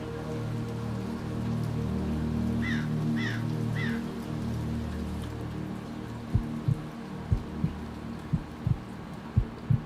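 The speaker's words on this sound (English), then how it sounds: "You already start getting chills down your spine when you start hearing that heartbeat." A heartbeat sound effect in a horror story, with a regular series of deep, soft thumps coming in after a stretch of steady rain-like ambience and a few distant caws.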